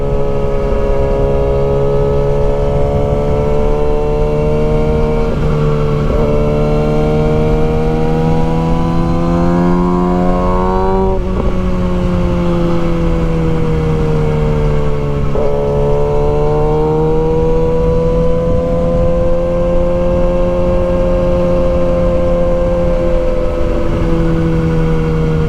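A 2023 Kawasaki ZX6R motorcycle rides along back roads, its engine note rising and falling steadily through gear changes, with loud, constant rider-perspective wind and engine noise.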